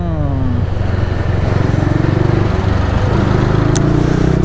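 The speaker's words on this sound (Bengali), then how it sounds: "ফাইনালি 38 দিন পর বাইকটা নিয়ে বের হলাম" A motorcycle idles steadily and close by, its low engine hum continuous throughout the short stretch with a slight rise in pitch near the end, heard alone without any talk.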